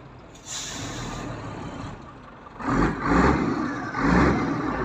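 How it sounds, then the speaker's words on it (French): Trucks roll in to set up a funfair on Cours Saint-Pierre in Nantes, their engines rumbling and swelling in several surges as they pass close by, with a hiss like air brakes. "Voilà les camions qui arrivent."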